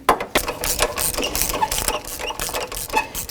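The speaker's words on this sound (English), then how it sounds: "Now I can tighten my tensioner." Belt tensioner on a 1984-2001 Jeep Cherokee being tightened with a ratchet during a water pump inlet tube job: a rapid, steady metallic clicking close up, continuous for a few seconds with no talk.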